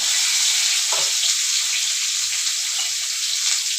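Potatoes frying in hot oil, a loud, steady, dense sizzle that holds evenly throughout with a faint clink or two of a utensil.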